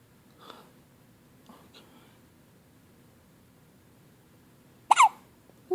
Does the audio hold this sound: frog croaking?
no